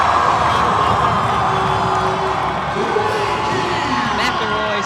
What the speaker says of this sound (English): McElroy sends the crowd into a frenzy with a breakaway dunk there